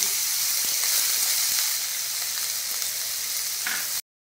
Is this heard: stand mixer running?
no